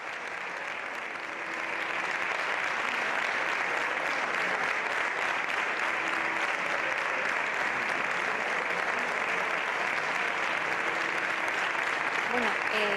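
Sustained applause from Socialist Party deputies in the Spanish Congress as Pedro Sánchez enters, a dense, steady wash of many hands clapping that swells after a quieter start and continues throughout, with faint voices mixed in.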